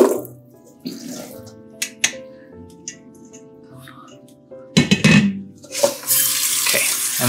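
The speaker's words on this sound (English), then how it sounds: "we'll repeat until the water comes out clear" Tap water runs and splashes over raw chicken in a strainer in a kitchen sink while the meat is rinsed for pozole, with intermittent gushes and clatter, and a person talks over it.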